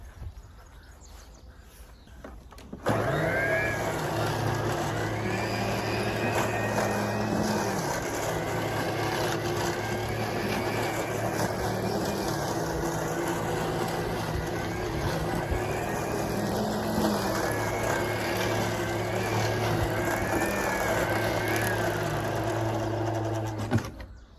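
A Qualcast Concorde electric lawn mower, back in service after its broken drive belt was replaced, starts up after a few quiet seconds and then runs as a steady, loud motor whine with a faint rattle, continuous and without talk until the end.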